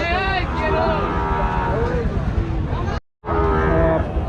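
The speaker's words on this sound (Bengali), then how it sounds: "আজকেও এখানে মোট আটটা গরু আছে সুখেন ভাইয়ের" Cattle at a busy rural cattle market in Rajshahi, Bangladesh, with several loud, drawn-out moos close by. A crowd of buyers and sellers talks and haggles underneath.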